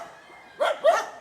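A dog at an animal shelter gives two short, fairly loud barks in quick succession, heard alone against a quiet background with no talking.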